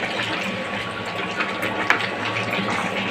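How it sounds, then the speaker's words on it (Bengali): Water pours steadily into a pot of cooking mutton, a continuous close gushing splash with a faint tonal hum and a brief clink midway. "তাই আমি জলটা দিয়ে দিচ্ছি"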